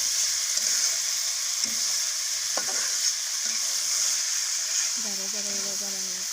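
Small fish frying in a pan with olives added, a steady hiss of sizzling oil running throughout with occasional stirring clinks, close and moderately loud, with a brief voice near the end.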